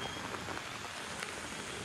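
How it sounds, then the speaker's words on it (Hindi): Steady rain falls nonstop during flooding in the Hojai area of Assam, a continuous even hiss of drops on surfaces, moderately faint with no talking. "बारिश भी पूरा नॉन स्टॉप सुबह से पूरा रात हो गया"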